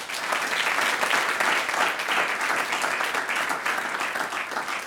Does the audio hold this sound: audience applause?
yes